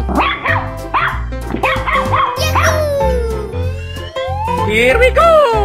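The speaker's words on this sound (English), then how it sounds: "Dog." A dog barks and yips loudly in quick, repeated bursts, its cries rising into whining, howl-like tones, with a low steady hum underneath.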